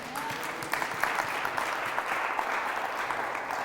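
Congregation at a church service applauding, a steady wash of many hands clapping at moderate distance, continuous throughout.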